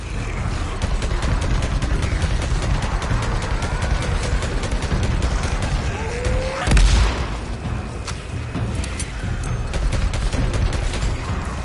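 Rapid gunfire and booming shots in the video game Days Gone Remastered, a dense, loud volley of repeated cracks running throughout with a heavier blast midway.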